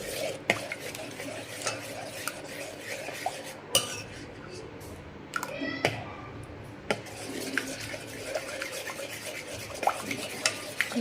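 Spoon scraping and clinking against a bowl as mango pulp is stirred into cake batter, steady rubbing strokes with sharp metallic taps throughout, close and fairly quiet.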